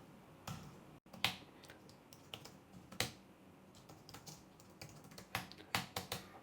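Quick, uneven clicks and taps of a computer keyboard, sharp keystrokes coming in short bursts with small pauses, close and fairly quiet in an otherwise still room.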